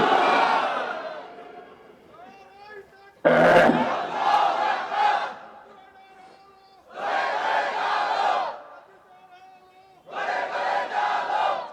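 A crowd at an Islamic religious gathering roars takbir in three loud, full-throated bursts, with a lone preacher's voice leading in between the shouts.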